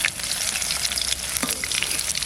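A large 900-gram Digha sea pomfret frying in a pan of hot oil gives a loud, continuous sizzle with scattered sharp spits and pops, close up and alone.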